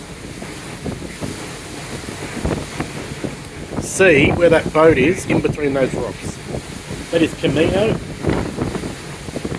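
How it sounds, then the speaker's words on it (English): Strong wind buffets the microphone in gusty rumbles on the deck of a Gozo ferry while a person talks over it, with faint engine and water noise beneath. "Now I apologise for the wind. It is really, really windy"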